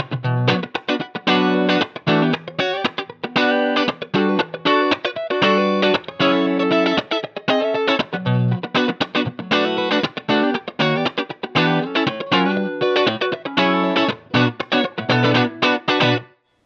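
A distorted electric guitar through a Quilter Pro Block 200 amp and Frontliner 2x8 cabinet, with high cut added, plays a continuous riff of chords and single notes, smooth and slightly muffled on top, with steady rhythm throughout.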